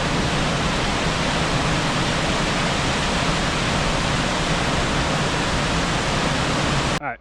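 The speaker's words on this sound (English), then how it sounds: "First waterfall of the day, this is Upper North Falls." Upper North Falls in Oregon pours in a dense, steady roar of falling water, loud and close, unbroken until it stops abruptly at the end.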